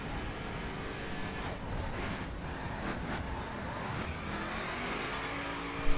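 A Mercedes SLR McLaren 722 driven in The Crew racing game: a steady, loud engine roar with tire noise from wheel spin, running continuously with no voices and a brief sharp knock at the end.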